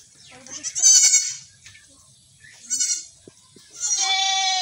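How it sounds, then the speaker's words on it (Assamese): Two young goat kids bleat in short, high, wavering cries, three calls spread across a few seconds at close range, with faint background noise between them. "আমৰা ছাগলী পোৱালি দুটা আছে"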